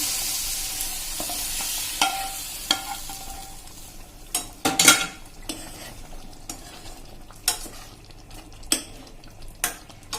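Dal receiving its tempering (vaghar) in a pan for Kathiyawadi-style dal pakwan, with light frying sizzle and a scrape of stirring, then sharp clinks of a ladle against the pan at irregular intervals, close and with no voices.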